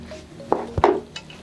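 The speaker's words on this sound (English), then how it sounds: "I'm stirring it together." A spoon stirring nkwobi with pepper sauce in a pot, a few quick scraping knocks and clatters against the pot in a short burst, close and distinct.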